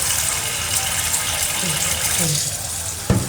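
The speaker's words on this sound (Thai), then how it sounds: "จะล้างสักสองน้ำก็ได้นะคะ แต่อย่าไปถูนะคะ ล้างเพื่อให้หูดูสอาดขึ้นนะ" New-crop sticky rice being rinsed in water before steaming, with steady splashing and running-water sounds throughout and a brief louder slosh near the end, while someone speaks over it.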